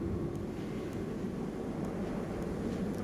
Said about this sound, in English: I'm just going to pretend a thruster was firing then when it shouldn't have been.